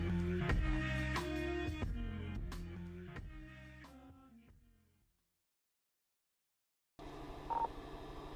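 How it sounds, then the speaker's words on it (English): Police dispatcher radio message tones from the Maplewood Police Department: a run of electronic beeps and tones that fade out into silence, followed by a low radio hiss with a brief blip. "That's the sound of a dispatcher sending out a message to Erica Estes."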